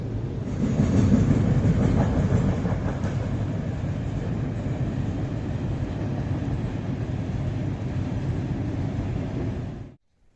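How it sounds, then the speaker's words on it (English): A long cargo train rolls steadily past a Russian village, a dense continuous rumble and rattle of wagons holding even for about ten seconds before cutting off abruptly. "In fact, something's coming now, I think. Cargo train."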